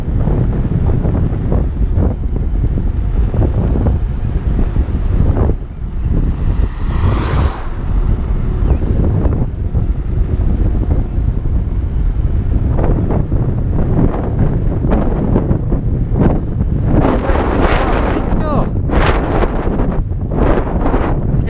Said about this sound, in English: Used to riding in no wind at all. Now it's blowing me all over the place.